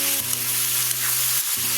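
Half a kilo of brinjal pieces frying in hot oil for curry, a loud, continuous, close sizzle with a faint steady tonal hum underneath and no speech.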